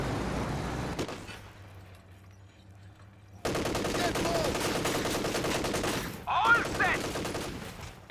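A wagon unit in the strategy game Company of Heroes 2 fires rapid bursts of gunfire. A loud burst opens, a quieter gap follows, then sustained machine-gun peppering runs mixed with battle noise to the end.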